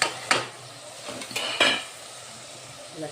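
Chicken korma masala with chilli, turmeric and kasuri methi stirred in a pan, with several loud scraping strokes of a spoon against metal over a soft sizzle, close by.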